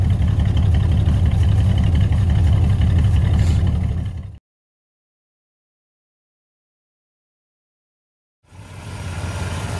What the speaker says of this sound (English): there's her at idle. Again, really smooth and quiet. There's a little bit of a shake burble in it.